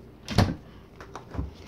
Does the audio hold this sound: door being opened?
yes